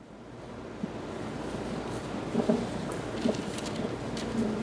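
Wind buffeting an outdoor microphone in a steady broadband rumble with occasional louder gusts and faint tonal thumps, no voices heard.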